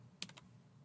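A few quick keystrokes tap on a computer keyboard, faint and close, in a short burst of about three clicks.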